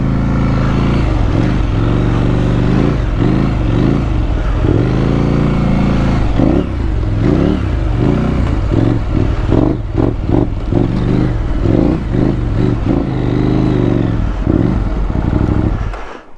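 KTM 890 and Yamaha T700 adventure motorcycles climb a soft dirt hill, engines loud and close with sustained revving that rises and falls in repeated throttle bursts for the whole stretch, cutting off at the end.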